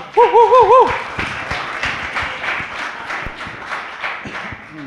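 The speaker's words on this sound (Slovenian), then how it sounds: "En aplavz." A small audience at a startup branding event applauds with scattered, fairly close claps after a brief warbling electronic tone opens, the clapping continuing at an uneven rhythm to the end.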